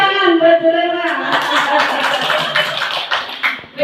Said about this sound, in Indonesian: Tepuk tangan buat dulu.